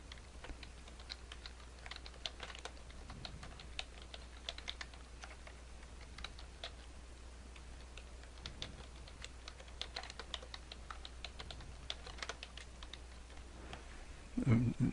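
Steady typing on a computer keyboard while entering a textbook's bibliographic details, a continuous run of light, quick key clicks at close range, quiet and unaccompanied until a brief louder noise at the very end.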